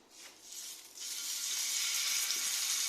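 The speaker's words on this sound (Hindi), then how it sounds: "अभी हम इसको फ्राई करने वाले। ऑयल डाल दिया है खाने वाला" Chicken tikka boti pieces on sticks frying in hot cooking oil, a soft sizzle that swells after about a second into a steady, close, bright hiss with no talking.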